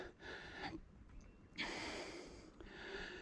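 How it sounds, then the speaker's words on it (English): Heavy, audible breaths in and out while mountain biking, close to the microphone, in slow uneven bursts with pauses between them. "With my heavy breathing in the background"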